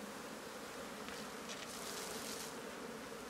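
Honey bees (Apis) buzz steadily at an open hive during a honey harvest, a dense, continuous hum close by with no voices.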